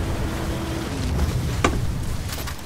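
Engine of a rigid inflatable rib boat in Battlefield 4 on the Paracel Storm map, a steady droning rumble with wind and water wash, plus a brief sharp crack partway through.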